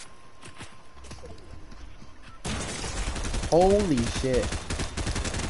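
Gunshots in Fortnite come as quick repeated cracks that turn into a louder burst of rapid fire partway through. A voice speaks over the shooting.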